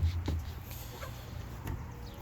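A few soft, scattered chicken clucks sound faintly against a quiet background.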